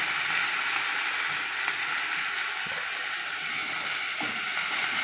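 Sliced onions and curry leaves hit hot oil in a pan, making a constant close sizzle and hiss with a couple of faint clinks of a spoon, no voices over it.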